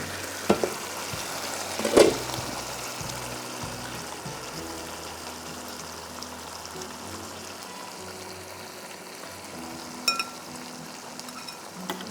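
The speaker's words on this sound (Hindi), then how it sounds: "हम इसका चूल्हा बिल्कुल हल्का कर रहे हैं और इसमें चिकन डाल रहे हैं" Changezi tikka chicken sizzles in a pan over a low flame, a steady soft frying hiss with a few clatters and stirring knocks near the start and once more later on.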